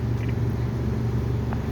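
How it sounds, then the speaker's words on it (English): Heavy street traffic on Harrison Ave in the South End of Boston, near a Whole Foods parking lot, makes a steady low rumble of passing cars, close and continuous, with no voices. "Yeah, this is quite a volume of traffic."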